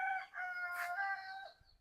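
A rooster gives one long crow, steady and fairly near, and it trails off toward the end of the roughly two-second span. Nothing else competes with it.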